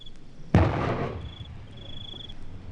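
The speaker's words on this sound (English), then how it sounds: "Of your own artillery at night." Single heavy artillery blast at night in Vietnam, a sudden loud boom with a long rumbling decay, over a steady background of chirping insects.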